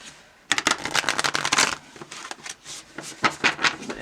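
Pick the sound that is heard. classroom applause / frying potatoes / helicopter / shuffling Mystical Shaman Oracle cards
shuffling Mystical Shaman Oracle cards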